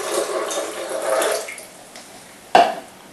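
About 1.5 cups of water poured into a container with 2.5 cups of overnight-soaked almonds, a close rushing pour that fades, then a sharp clunk near the end, with no talk.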